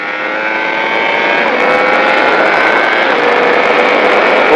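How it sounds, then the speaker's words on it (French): A race motorcycle at Magny-Cours accelerates at full throttle, its engine a loud, close, steady roar rising in pitch without a break over a few seconds. "Et on accélère, on va à fond."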